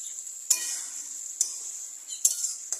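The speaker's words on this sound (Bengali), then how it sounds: "চারিপাশ থেকে ঘুরিয়ে নাড়তে হয় রে" Food being stirred in a pot of simmering meat curry, with a steady high sizzle and four sharp scraping clinks of a utensil against the pot at irregular intervals.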